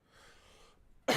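A single sharp cough bursts out loudly at the very end, following a faint stretch of quiet background noise.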